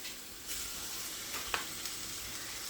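Food searing in a hot pan with rosemary, a loud, steady broadband sizzle throughout with a few brief sharper pops and spits.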